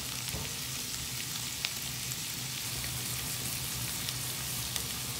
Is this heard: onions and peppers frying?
yes